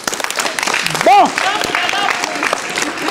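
Applause breaks out for an uncle at a family dowry ceremony, a short burst of clapping mixed with loud overlapping voices and a sung or shouted note, close and lively.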